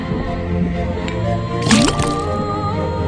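A quick gurgling splash of liquid poured into a cauldron in the detective game Detective Grimoire, a single burst with a squishy, dripping texture over a steady background music bed.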